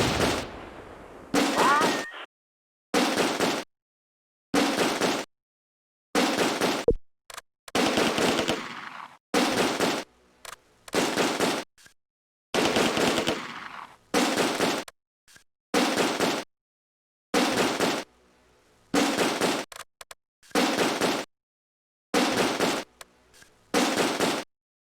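Machine gun fire and grenades in the World War II video game Close Combat: A Bridge Too Far, heard as loud, evenly spaced bursts of rapid gunfire with short silent gaps between them.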